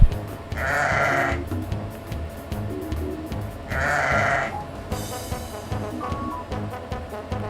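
A farm sheep bleats twice in long wavering calls, fairly close and clear over low background noise, with no voices.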